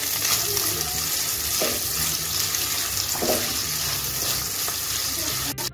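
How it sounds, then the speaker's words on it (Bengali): Chopped onion frying in a pan for a katla fish roast, a steady broadband sizzle running throughout with a few faint stirring knocks, close and fairly loud with no talking. "এখন আমি পেঁয়াজটা, কেটে রাখা পেঁয়াজটা দিয়ে দিচ্ছি। পেঁয়াজটা আমি লাল করে ভেজে নেব।"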